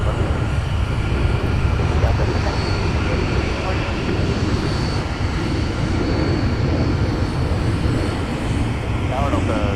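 An airliner's jet engines roar loud and steady during a go-around at Minneapolis airport, a dense continuous rumble filling the whole stretch without letting up.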